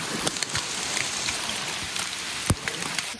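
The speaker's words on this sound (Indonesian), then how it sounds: "dari awal sampai sekarang masih hujan" Steady rain falls on a mountain hiking trail on Mount Gede, a dense even hiss of drops with a few sharper close taps and one loud splash-like knock, no talking.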